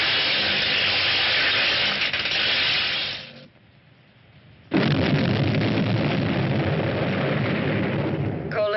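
A powerful explosion in a sci-fi space war film, a loud roaring blast that thins into a brief lull and then erupts again with a sustained, dense rumble.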